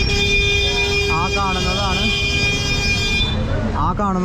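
Car horns toot repeatedly in a busy, cramped street near a temple in Udaipur, several short honks over steady traffic roar, with a voice talking throughout.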